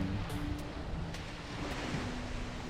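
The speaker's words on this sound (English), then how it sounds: "get to a beach, the water lapping the sand" Gentle waves lap against a sandy beach in a steady, low wash of surf with light wind, heard alone at moderate distance with no voices.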